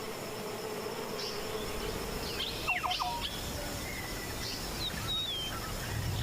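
Worker bees buzz around a hive in Kenyan savanna woodland, a faint continuous hum. Chirping birds call now and then over it.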